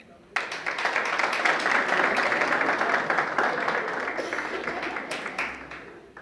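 Audience applause at a national debate competition final, breaking out suddenly and holding as a dense, steady wash of clapping from a seated crowd, then thinning slightly toward the end.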